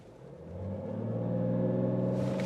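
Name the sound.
BMW 640d accelerating hard on a timed launch run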